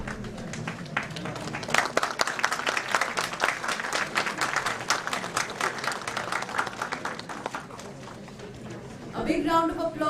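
Audience applause at the inauguration of India's first Space Weather Prediction Centre, a steady crowd of clapping for students that runs for several seconds and fades, with a voice entering near the end.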